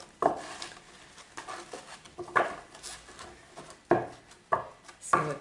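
Playing cards shuffled several times, each a brief riffling burst followed by a soft tap, close and fairly loud, separated by quiet pauses; no voices.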